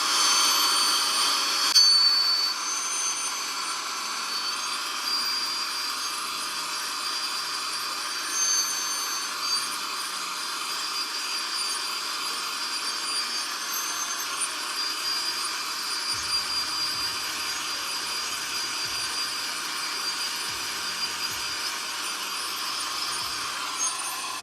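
A Bissell SpotClean Pro upholstery cleaner used on car seats starts up and runs as a loud, steady high-pitched motor whine and airy rush, close and continuous with no talking.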